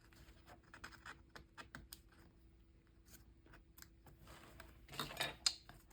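Scissors snipping paper during a planner layout session: a run of small, quick clicks and crisp cuts, quiet and close, building to a louder cluster of snips near the end.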